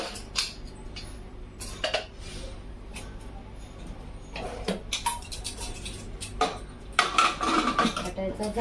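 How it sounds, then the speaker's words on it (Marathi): Metal clatter of a pressure cooker lid being fitted and locked in a home kitchen, several sharp clinks and scrapes in scattered bursts, close and fairly quiet, with a louder cluster near the end. "त्याचं झाकण लावून घ्यायचं आहे आणि असं चालू करायचं."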